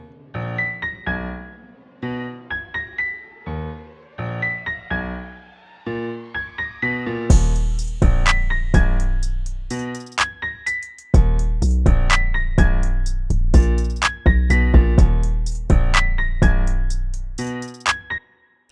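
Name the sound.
trap beat made in Soundtrap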